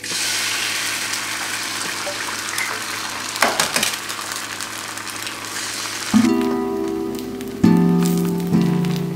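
Eggs frying in a pan on top of plantains and gallo pinto, a steady crackling sizzle that turns into sharper spattering bursts near the end.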